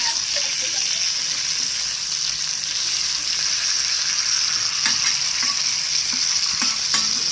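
Fish fries in a pan for a curry, giving a steady, bright sizzle that holds through the whole stretch, with a few faint clinks and scrapes as the pieces are turned.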